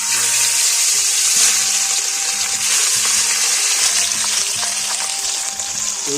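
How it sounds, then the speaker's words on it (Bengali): Fish sizzles and crackles steadily in hot oil, a loud continuous frying hiss with occasional faint clinks of a utensil. "কড়া গরম হয়ে গেছে মাছও দিয়ে দিয়েছি ভাজা চলছে"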